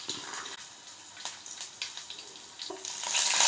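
Tempering seeds and garlic frying in hot oil in a pan for small bitter gourd fry, a steady close sizzle with soft crackles and pops that grows louder and busier toward the end.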